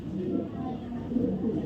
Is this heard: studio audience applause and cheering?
no